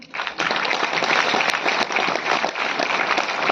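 Loud, sustained audience applause at a railway goods-shed workers' union event in Delhi, a dense crowd of clapping hands rising quickly and holding steady.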